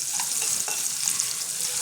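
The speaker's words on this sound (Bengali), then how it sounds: "আলুটা আমি আস্তে আস্তে ভাজবো যেন সেদ্ধ হয়ে যায়।" Potato pieces fry slowly in a kadai for khichuri, giving a steady, close, even sizzle with faint stirring scrapes throughout and no talking.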